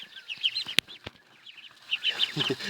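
Two-week-old mulard ducklings give shrill, high peeping calls in quick overlapping bursts at close range, broken by a couple of sharp knocks.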